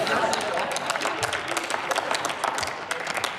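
Applause from the CDU-CSU group in the Bundestag, steady clapping from many hands in the chamber at moderate level, with a voice speaking over it.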